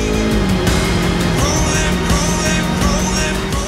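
A 2023 Yamaha R3 motorcycle engine running with a steady drone and a rising then holding tone, loud and close throughout.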